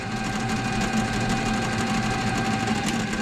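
A brake rotor spins on a lathe in a home garage after being run down with an impact wrench, a steady close mechanical whir with a continuous tonal hum and faint rattling texture throughout, no talk.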